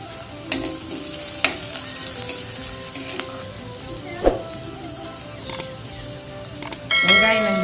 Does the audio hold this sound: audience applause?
no